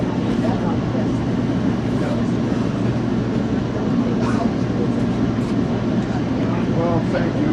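The CapeFLYER passenger train rolls along the railroad with a steady low rumble and rattle inside the car, while people talk over it nearby.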